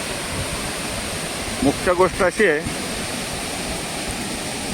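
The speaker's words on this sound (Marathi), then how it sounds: "हा इकडे धबधबा आहे" Savdav waterfall near Kankavli, swollen after heavy rain, gives a steady broadband rush of falling water filling the whole scene, while someone speaks briefly over it in the middle.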